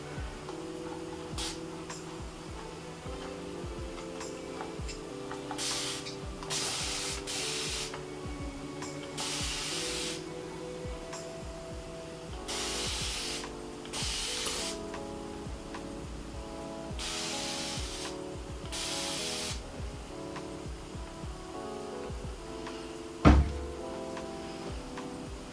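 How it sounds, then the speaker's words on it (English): A spray bottle fires repeated short bursts of water mist onto a section of curly hair, some in quick pairs, over soft background music, with a brief thump near the end. "I'm gonna start by spraying this section down."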